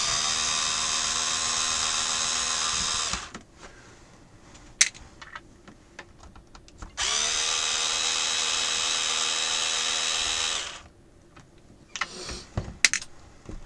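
A small electric screwdriver whirs steadily for about three seconds, pauses amid faint clicks and handling noises, then whirs again for about four seconds while backing screws out of the rear of a Compaq F700 laptop, close and moderately loud.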